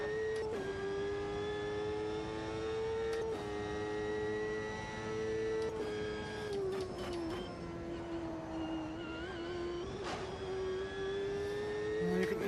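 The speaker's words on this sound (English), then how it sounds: "You can hear the car bottom out and smack the ground there" An open-wheel racing car in Automobilista 2 screams at high revs, its engine note rising and dipping with gear changes, while sharp thumps and scrapes mark the chassis bottoming out and striking the track surface several times.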